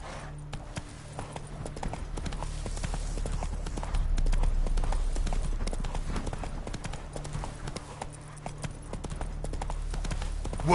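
Steady clip-clop of horse hooves while riding Roach through The Witcher 3 video game, a continuous rhythmic trot over a low ambient bed of game music and outdoor sound.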